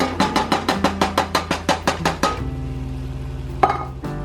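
French-style drained green beans and condensed tomato soup being stirred for a 1950s-style dinner: about ten quick, evenly spaced scraping strokes up close, followed by a steady low hum and one brief clink near the end, with no talking.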